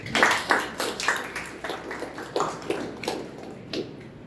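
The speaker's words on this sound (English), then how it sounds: "So we'll begin with a big round of applause." A Toastmasters club meeting audience claps in a round of applause, a sparse, uneven patter of separate hand claps at moderate distance that rises and fades in loose pulses.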